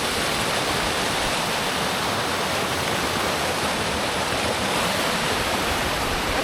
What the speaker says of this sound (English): That's a rushing river.